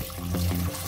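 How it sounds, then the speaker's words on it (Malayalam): Water poured into a pressure cooker holding pumpkin and banana for pineapple pachadi, a short splashing pour under a second, loud and close. "അപ്പൊ ഇതിലേക്ക് നമുക്ക് കുറച്ച് വെള്ളം ചേർത്ത് കൊടുക്കാം."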